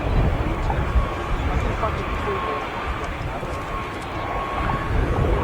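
A single-engine Gazelle helicopter flies in formation at the Cosford Air Show, a steady broad engine and rotor rumble heard over a commentator talking on loudspeakers.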